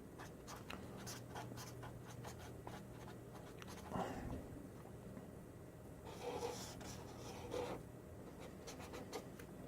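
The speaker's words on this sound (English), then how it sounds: "let me write my name down so it's always original" A pen writes a name on paper, a soft, steady scratching that runs for several seconds with brief pauses, faint and close, with no talking over it.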